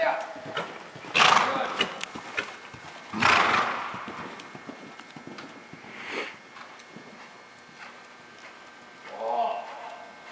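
Horse cantering during a riding lesson, rhythmic hoofbeats at close to medium distance with louder bursts of movement and snorting, while an instructor speaks briefly now and then.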